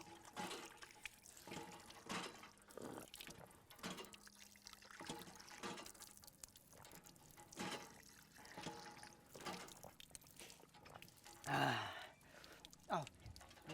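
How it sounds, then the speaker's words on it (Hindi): Water runs from a tap in a Hindi film scene, a steady hissing flow that lasts the whole stretch, with a louder gushing surge near the end and faint voices underneath. "नल चलाओ।"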